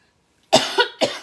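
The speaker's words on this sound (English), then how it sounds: "It's like this little hacking little cough." Three quick hacking coughs burst out close and loud, the first strongest, following a moment of silence.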